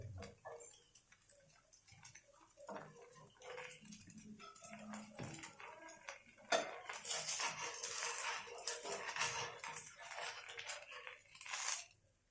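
A rava dosa is loosened and flipped on a hot pan, with faint scattered taps followed by a longer stretch of louder, rough spatula scraping and light sizzle.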